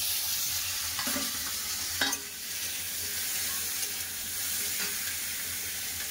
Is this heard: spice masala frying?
yes